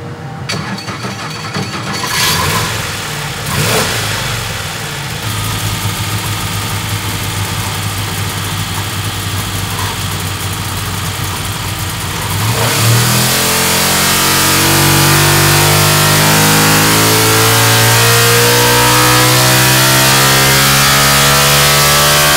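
A NASCAR Chevy SB2 V8 converted into a high-revving racing V6 runs on race gas, loud and steady at first, then rising into a harsher, stronger roar that holds to the end.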